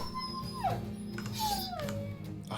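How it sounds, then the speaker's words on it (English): Dogs whimper and yelp in a falling, drawn-out cry as they are killed by thugs' war dogs' attackers in the Battle Brothers video game, with two descending whines over a steady low game soundtrack. "I hate killing dogs."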